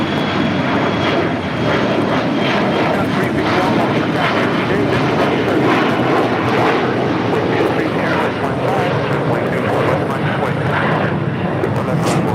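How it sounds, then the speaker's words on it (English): An Air China Boeing 777-300ER takes off from runway 24 left at LAX, a powerful jet roar with crackling rumble building and holding strong throughout, while someone talks over it. "It was Air China Flight 9AA heading to Beijing on the 777-300ER, taking off on the 24 left there on the north side."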